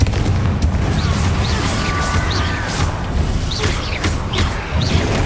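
A Confringo fire spell explodes in the Hogwarts Legacy video game: a loud, sustained blast with crashing debris that rumbles and crackles across the whole moment, followed by a few sharp whooshing bursts.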